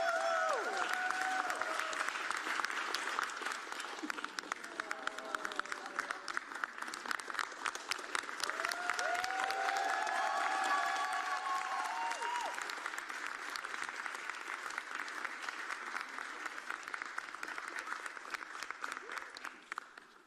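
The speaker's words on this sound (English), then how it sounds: "please give Monica a round of applause" An audience applauds for Monica at a legislative equity event, sustained dense clapping that stays even for about twenty seconds before stopping abruptly, with a few faint voices mixed in.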